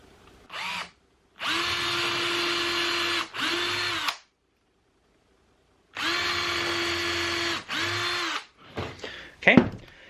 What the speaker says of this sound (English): I want to pre-drill a couple of screw holes in here so that it's not going to be ripping the material